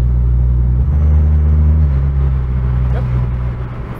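A BMW N55 engine paired with an 8HP45 gearbox, heard from inside the car as a loud, steady low rumble, with a shift in tone partway through and the drone easing off near the end.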